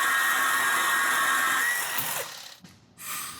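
A power tool cuts through a car's exhaust pipe near the muffler, a high shrill whine held steady before it falters and drops away as the cut finishes, then briefly resumes.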